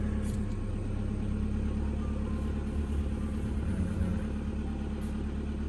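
An Audi that would not start is now idling smoothly just after starting, giving a steady, even low rumble up close for several seconds with no misfires or stumbles and no talking.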